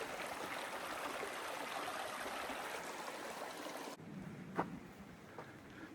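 Steady broadband rush of flowing water in Weber Creek fills the scene, then drops to a quieter trickle with a couple of brief splashes.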